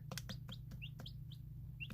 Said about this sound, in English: You're 3 different breeds of chickens, but all of you are siblings at this point.